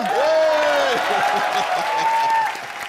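Loud TV comedy show studio audience applause with cheering, a swooping whistle-like tone running over the clapping before it eases off near the end.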